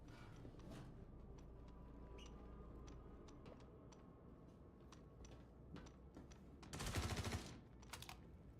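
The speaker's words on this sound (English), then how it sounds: "Is that you shooting?" Gunfire in a space exploration video game near a vault with NPCs around: a brief, loud, rapid burst of shots stands out against a low background hum, with a few faint clicks before and after.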